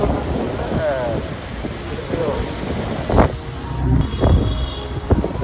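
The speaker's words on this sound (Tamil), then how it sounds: "மழை வந்துருச்சு" Rain falling during a storm in Chennai, a steady broadband hiss mixed with gusty wind noise on the microphone, with a few brief louder knocks and some distant background activity.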